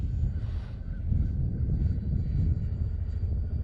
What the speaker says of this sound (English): I hear a chopper. I see we got a Chinook up in there in the sky.